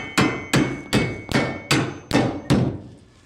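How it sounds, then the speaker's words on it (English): A metal joist hanger being tapped onto a wooden beam with a hammer: seven sharp, evenly spaced strikes about half a second apart, each ringing briefly, close and loud with no talk. "So you can just tap it forward."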